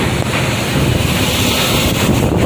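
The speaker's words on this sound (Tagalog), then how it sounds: "kusog hangin" Strong wind buffets the microphone on a rough coast with a whitecapped sea during a monsoon storm, a loud continuous roar with surf rushing underneath.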